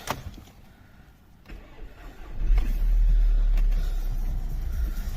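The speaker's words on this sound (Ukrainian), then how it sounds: "запускаємо двигун." A Skoda Octavia 2.0 TSI engine cranks and catches, then settles into a steady, loud low rumble close by.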